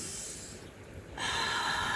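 A deep breath in and exhale during a leg stretching routine: a quieter, airy inhale, then a louder, rushing breath out that carries on to the end, close to the mic, with no talking.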